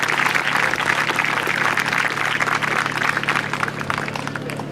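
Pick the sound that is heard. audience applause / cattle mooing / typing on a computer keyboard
audience applause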